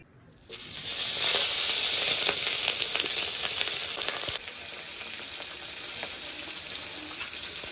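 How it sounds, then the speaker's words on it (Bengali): Tengra fish dropped into hot oil burst into a loud, close, hissing sizzle that holds steady, then eases to a slightly softer continuous crackle, with no talk. "ওদিকে মাছগুলো ভাজা হচ্ছে"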